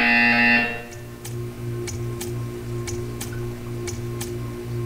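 A loud harmonic buzzer sounds for about half a second in Portal 2, followed by a regular ticking, roughly one tick per second, over a low steady hum.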